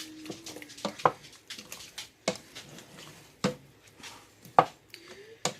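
Chili with quinoa stirred in a pot, giving scattered clinks and scrapes of the spoon against the pot at an irregular pace, quiet and close, with no talking.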